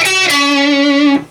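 A distorted electric guitar note from the Sabbath Bloody Sabbath riff is bent up and held with vibrato, one loud sustained tone wavering slightly before it cuts off.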